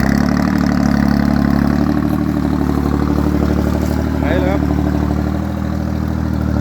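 A two-wheel walking tractor engine chugs steadily at idle, a loud, close, rumbling drone throughout, with someone speaking briefly over it.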